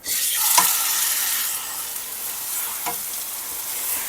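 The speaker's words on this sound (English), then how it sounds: "I'm going to sear it on this one side just a little bit longer." Pork searing in a hot pan for pulled pork sandwiches gives a loud, steady sizzle throughout, with a couple of brief sharper crackles and pops and no talking.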